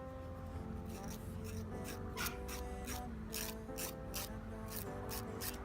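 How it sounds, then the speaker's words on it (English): A nail file rasps downward across the tip of a fingernail to take off excess nail wrap, giving repeated close, scratchy strokes in a steady rhythm. "at a right angle to the tip of my nail I will run my file downwards"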